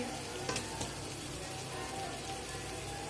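Potatoes and eggplant frying with spices and dried fish in a pan, a soft, continuous, rain-like sizzle with a few faint stirring knocks, fairly quiet and without speech.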